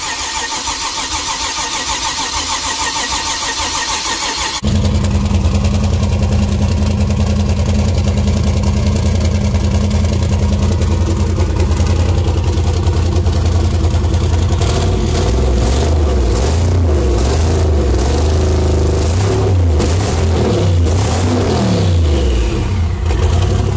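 A V8 from an LS swap cranks briefly and catches, then runs loud and close at a rough idle before being revved in several rising and falling bursts near the end.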